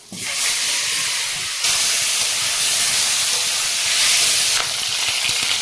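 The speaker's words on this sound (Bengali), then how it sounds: "এদিকে তেলটা গরম হয়ে গেছে মাছগুলো দিয়ে দেবো" Magur and shol fish drop into hot oil in a pan and fry with a loud, continuous sizzling hiss close by, surging sharply at the start and holding steady throughout.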